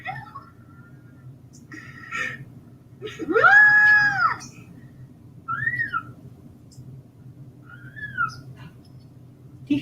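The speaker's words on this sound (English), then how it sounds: "Do you hear that? That's the cat." A cat makes a loud, drawn-out, person-like meowing call in the middle, followed by a couple of shorter, fainter mews over a low background hum.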